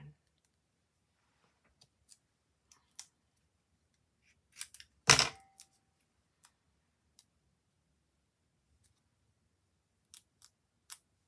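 Scissors cutting paper for card making, giving sparse soft snips and clicks with one louder burst of cutting near the middle, close and quiet, without talk.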